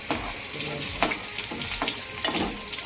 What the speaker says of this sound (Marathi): आपण तेल टाकून घेतलं. आता आपण लसूण टाकतोय.